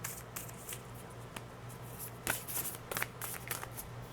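Tarot cards being shuffled by hand, soft riffling and slapping bursts in quick irregular clusters, close and quiet over a faint steady hum, no talk.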